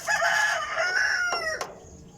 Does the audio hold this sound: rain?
no